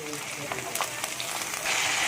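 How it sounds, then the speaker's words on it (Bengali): Onion and potatoes fry in hot oil in a pan, giving a steady close sizzle and crackle that swells louder near the end, with a voice talking faintly underneath. "ভিতরে পেঁয়াজ দিয়ে দিচ্ছি আমি তেলের মধ্যে"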